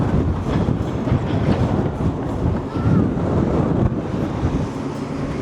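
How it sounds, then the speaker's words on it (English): Strong wind roars at the Blackpool seafront by moody seas, buffeting the microphone in a loud continuous rumble with gusts rising and easing. "I hope you can hear me with the wind."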